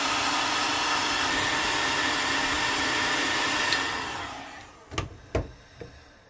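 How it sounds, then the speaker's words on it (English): A heat gun blows a steady, loud roaring hiss while shrinking heat shrink over a crimped battery cable terminal for a small boat's 12 volt system, then cuts off, followed by a few close clunks. "bring in the heat gun"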